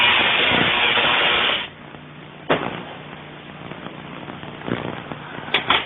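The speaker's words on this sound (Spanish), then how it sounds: "Un pedazo de lana de acero explota en llamas inmediatamente." A piece of steel wool bursts into flames with a loud, rushing hiss that cuts off after a moment, followed by quieter crackles and a few sharp pops.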